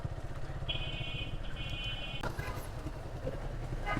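Motorbike rolling slowly through a muddy, rain-soaked lane in Amlapara, Narayanganj, with a low engine drone throughout, a brief high whine twice and a clattering jolt partway through.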